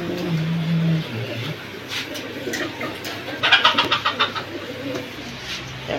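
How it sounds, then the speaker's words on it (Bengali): Pigeons, including a silver male, coo in a series of soft throaty bursts, with a low hum early on and a quick run of pulsed coos near the middle, heard close without talk. "এটা সিলভার কবুতর আছে নর"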